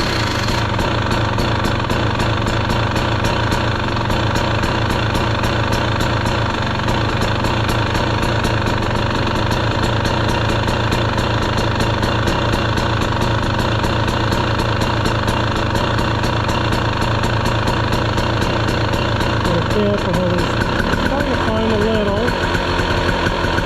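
2023 KTM 300 XC two-stroke dirt bike engine running at a steady, buzzy idle, loud and close and continuous for over twenty seconds, with a slight change in tone near the end.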